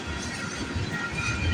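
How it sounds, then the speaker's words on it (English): A CP freight train rolls past at night, a dense, continuous rumble and rattle of wheels and cars, loud and steady throughout. "Oh, and I believe we got another CP train coming."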